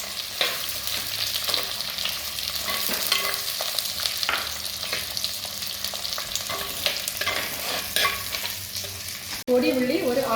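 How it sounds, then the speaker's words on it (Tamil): Small onions fry in oil in a pan while being stirred, a close, continuous sizzle punctuated by frequent scraping and clacking of the spoon, with a sharp knock just before the end. "பொடி உள்ளியை இதில் சேர்த்து ஒரு ஆஃப் ஃப்ரை நல்லா வதக்குவோம்."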